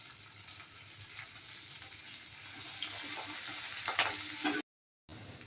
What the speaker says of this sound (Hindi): अदा कंचा लंका फ्राई कर दो